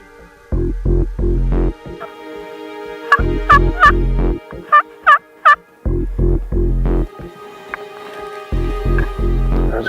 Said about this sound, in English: There's a gobble and it's close.